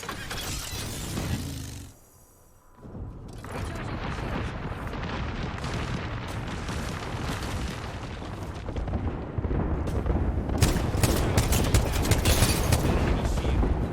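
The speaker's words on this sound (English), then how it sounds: "Knuckle cluster's firing" Knuckle Cluster explosives go off in Apex Legends as a dense, continuous roar of blasts and crackling bursts. There is a brief dip near the start, then the detonations swell louder toward the end.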